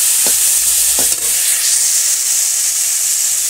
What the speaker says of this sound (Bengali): মশলা দিয়ে দিয়েছি, এখন নাড়বো।